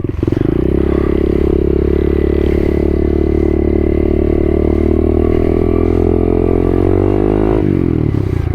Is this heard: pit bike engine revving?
yes